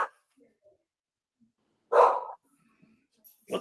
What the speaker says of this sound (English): What's that dog bark?